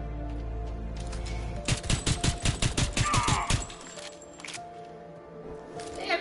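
Rapid automatic gunfire in Homefront: The Revolution, a dense burst of about a dozen sharp shots in quick succession, loud and close, with a few scattered single cracks afterward over a steady game ambience.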